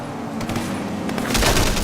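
Gunfire cracks out in a rapid, dense burst of shots, loud and close, growing heavier toward the end.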